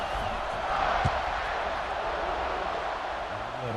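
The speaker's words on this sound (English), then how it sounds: "this crowd is buzzing after that last score" American football stadium crowd buzzes after a score, a broad sustained murmur of many voices with a brief cheer swell near one second, distant and steady.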